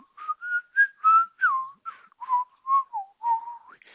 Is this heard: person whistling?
yes